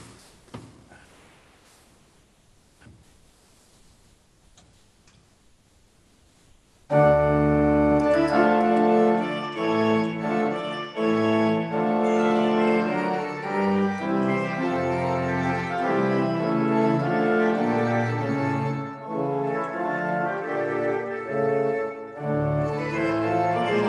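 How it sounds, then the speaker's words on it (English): After several seconds of near silence, a full early-music ensemble enters loudly in an echo piece, a large and a small cornett trading phrases over a steady low accompaniment. "There's a big and a small cornet, and they alternate."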